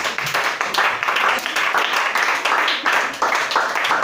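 Congregation at a French-speaking church service applauding and cheering together, a dense, steady wash of many hands clapping with raised voices mixed in, loud and continuous throughout.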